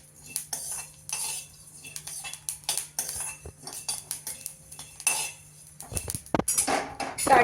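Black pepper and fennel seeds dry-roasting in a pan, with repeated close metallic clinks and scrapes of a spoon against the pan and a low steady hum underneath, growing busier near the end.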